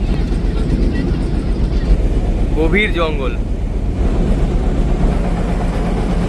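A trawler boat engine rumbles steadily at low pitch as the boat moves slowly along a canal with low water, continuous and close, while a person speaks briefly over it.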